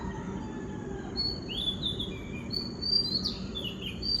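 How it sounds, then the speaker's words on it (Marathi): Several birds chirp and tweet in the early morning, with short bright calls repeating at irregular intervals over a steady low background hum, moderately near and clear. "पक्ष्यांचा आवाज आहे"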